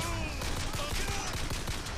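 Gunfire in the video game Bioshock Infinite, dense rapid bursts of shots mixed with game noise, loud and continuous over two seconds.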